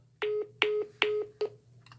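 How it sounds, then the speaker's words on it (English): Telephone tones after a call is hung up: four short, evenly spaced electronic beeps with a fainter fifth trailing off, clean and close against a low hum. "So he hung up the phone."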